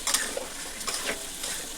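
Chicken biryani with curd is stirred in a pot, with a brief run of close scraping strokes over a steady soft sizzle and no talking.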